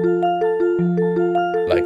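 Casio SA-1 keyboard samples reworked through OP-1 Fields effects and LFOs: a loud, steady run of bright synth notes in an even rhythm, ending in a short noisy, warbling burst.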